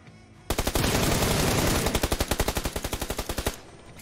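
Rapid automatic gunfire in the shooter game PUBG Lite on the Miramar map, one long sustained burst followed by a run of distinct evenly spaced shots about three seconds in total, loud and close with no voices over it.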